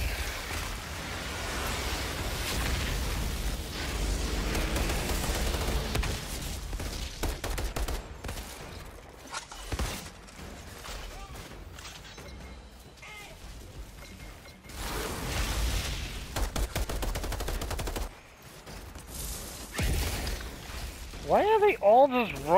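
Gunfire in the Outriders video game, with bursts and rattling shots that come and go over a loud, cluttered mix of mechanical game effects, and a voice talking over part of it.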